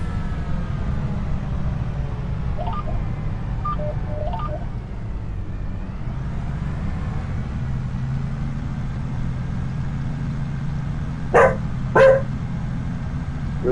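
A puppy on a farm barking: a few short yips early on, then two sharp louder barks near the end, over a steady low engine-like hum.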